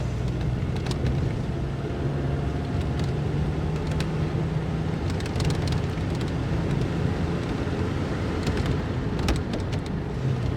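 A 1930s pre-war Rolls Royce 20/25 cruises along with a steady low engine hum and road rumble, continuous and even, heard from inside the car.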